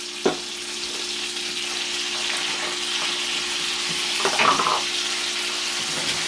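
A spoon stirring Swiss steak in a sizzling pan, steady frying hiss with a couple of clinks and scrapes of the spoon, close by and without voices.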